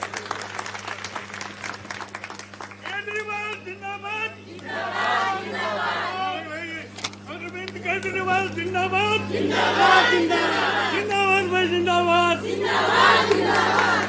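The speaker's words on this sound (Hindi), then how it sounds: "अरविंद केजरीवाल जी के लिए जोरदार तालियां बजाइए।" A crowd at a press conference with Arvind Kejriwal in Delhi claps and cheers loudly, building to shouting and whoops that swell and fade in waves over a steady low hum.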